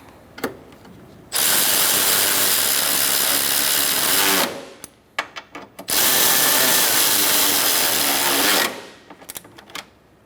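A power tool drives the headlight fasteners tight on a 2014-2019 Kia Soul in two loud, close bursts of high whirring lasting about three seconds each, separated by short clicks and handling noises.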